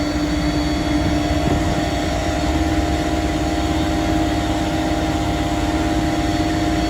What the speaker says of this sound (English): Let me turn the PTO off so that you can hear me.